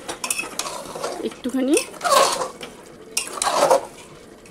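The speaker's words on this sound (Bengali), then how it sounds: "এই দেখো এবার এটাকে আবার নাড়াচাড়া করে" Chicken and bottle gourd curry stirred in a pan, with steady scraping and clinking of a spoon against metal and a soft sizzle underneath, while someone speaks briefly.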